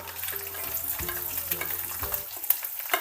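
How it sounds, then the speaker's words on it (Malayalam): Fenugreek seeds and crushed dried red chillies frying in hot oil for a Kerala ripe mango pulisseri, a close, steady sizzle with rhythmic scraping stir strokes about every half second, no voices. "ഉലുവ മൂത്ത് വരുമ്പോൾ നമുക്ക് ഇതിലേക്ക് നാല് വറ്റൽമുളക് പൊടിച്ചത് ഇട്ടെടുക്കുന്നുണ്ട്"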